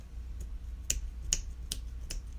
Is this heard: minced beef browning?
no